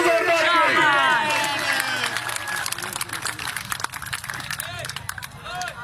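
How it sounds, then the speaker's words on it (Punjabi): A crowd at a kabaddi match claps and cheers for a one-point win, with scattered hand claps under an announcer's voice and background chatter. "ਤਾੜੀ ਲਾ ਦਿਓ ਜ਼ੋਰਦਾਰ"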